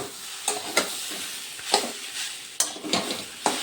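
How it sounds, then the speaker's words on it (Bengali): Giant taro (maan kochu) sizzles steadily in a pan with spices while a spatula scrapes and stirs it in close, rhythmic strokes every half second or so. "এইভাবে কতক্ষণ কষিয়ে নিতে হবে মশলার সঙ্গে"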